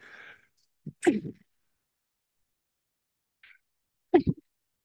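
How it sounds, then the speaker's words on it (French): A single close sneeze, a sharp breathy burst after a brief intake, followed by silence and a short throat-clearing noise. "J'ai envie d'éternuer."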